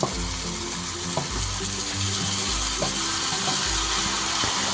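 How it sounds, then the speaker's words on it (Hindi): Lingdu fern stirred with onion and oil in a pan, a steady close sizzle with repeated scraping strokes of the spatula and a low continuous hum underneath. "अब हम लांगड़ू को अच्छे से मिक्स कर लेंगे प्याज और तेल के साथ ताकि ये भी थोड़ा सा भुन जाए"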